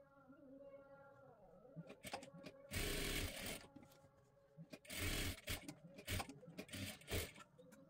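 A sewing machine runs double rows of stitching on blouse fabric, with short whirring bursts starting and stopping in quick succession, close and clear, with no talking.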